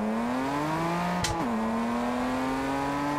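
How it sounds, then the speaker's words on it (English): Car engine in the racing game Test Drive Unlimited Solar Crown, a steady droning hum with a smooth rising pitch, a short burst of noise and a quick shift midway, continuous and clear with no talk. "I mean, the car sounds great"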